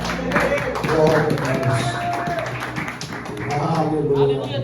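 A church congregation claps along in a rhythmic pattern during a lively worship service, steady taps under music and voices.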